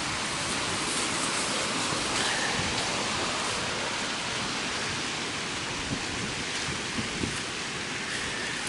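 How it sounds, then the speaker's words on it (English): Heavy rain pours almost straight down over a downtown area during a storm, a dense, steady hiss of falling water that fills the whole scene with no talk. "the rain is just coming almost straight down now"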